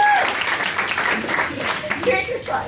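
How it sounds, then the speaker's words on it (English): An audience at a talk applauds with brief, dense clapping that tapers off, with people speaking over the clapping. "A big round of applause."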